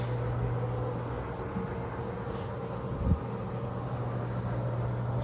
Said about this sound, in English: That's the shower.